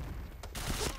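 A P90 fires a rapid burst in the Point Blank shooter game, a dense crackling volley of shots packed into about a second over a low background rumble.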